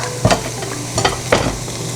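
Bell peppers and onions sauté in a pan with a steady loud sizzle, broken by a few louder scraping stirs of the vegetables.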